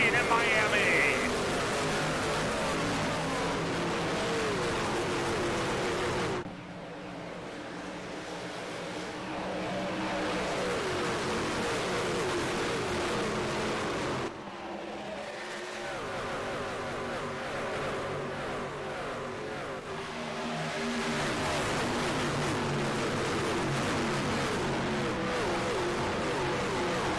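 Toyota Tundra race trucks roar off at the green flag at Homestead-Miami Speedway, a dense, steady engine wash lasting throughout with brief dips as the pack passes, under faint commentary-like noise.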